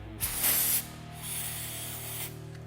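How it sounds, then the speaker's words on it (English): Brake cleaner sprayed from an aerosol can onto a rag while working on a Polaris General prop shaft, heard as a close, sharp hiss in two short bursts, the second one longer and softer. "we're going to take a rag with some brake clean."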